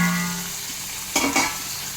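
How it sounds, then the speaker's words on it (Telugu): Paneer with fried onions is stirred in a hot oiled pan, with a steady close sizzle throughout and two brief louder scraping stirs near the middle. "ఇప్పుడు ఇలా కలుపుతాం."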